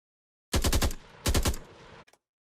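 AK rifle fire in a Vietnam-era first-person shooter game: two quick, sharp bursts of several rapid shots each, loud and close, followed by a couple of faint clicks.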